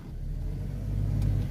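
A 2012/2013 VW Gol 1.0 engine revs in first gear with the handbrake pulled hard, a close low rumbling drone that swells slightly as the throttle is held, with no talk.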